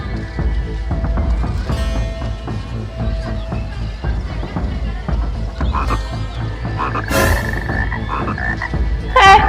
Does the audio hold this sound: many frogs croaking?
yes